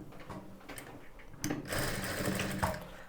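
A sewing machine stitches a garment in short, close bursts of rapid needle clatter, with pauses between runs and no talk over it.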